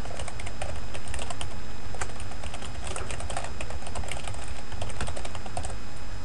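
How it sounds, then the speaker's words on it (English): Computer keyboard typing, steady fast clacking of keys while entering a name into Outlook 2007, close and continuous with no voices. "type in the name of the person you want to add to the group"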